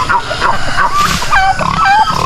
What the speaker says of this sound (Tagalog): Nandiyan naman yung mga baboy natin.